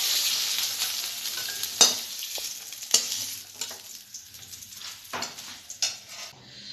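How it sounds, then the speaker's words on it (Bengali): Chicken pieces frying in a hot pan for homemade pizza topping, a bright close sizzle punctuated by stirring scrapes and spatula clacks, fading toward the end, with no speech. "আমার চিকেনটা ভাজা হয়ে গেছে"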